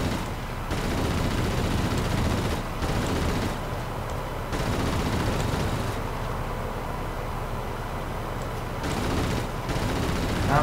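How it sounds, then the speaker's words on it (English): Enemy plane gunfire in the World of Warplanes flight game rattles in several long bursts with brief gaps, loud and close over a constant engine roar. "Somebody's shooting at me"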